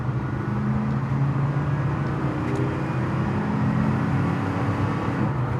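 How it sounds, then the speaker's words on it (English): A 1979 Pontiac Trans Am pulling away in first gear, its engine a steady, loud low drone heard from inside the car, with no talk over it. "So there's first gear."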